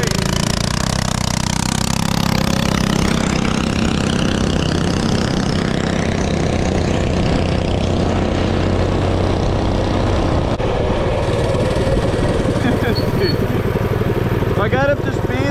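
Two mini bike engines, one with a torque converter and one with a jack shaft, roar loudly and close in a sustained, drifting drone as they race, with occasional voices mixed in.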